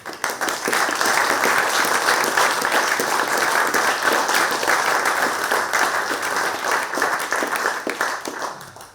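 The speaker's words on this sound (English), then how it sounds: "can we give the whole BID team a round of applause, please?" Sustained applause from a large audience, steady and loud throughout, with dense clapping that tapers slightly at the end.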